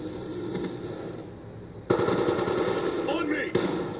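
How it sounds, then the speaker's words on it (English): Sentry gun in a video game firing rapid automatic bursts, loud and close, with a sharper surge of gunfire partway through and another near the end. "Thanks, sentry gun."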